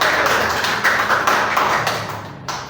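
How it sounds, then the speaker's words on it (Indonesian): A short burst of clapping from a group in a classroom micro-teaching session, steady and dense for a couple of seconds before thinning out near the end. "Berikan tepuk tangan kepada Bapak."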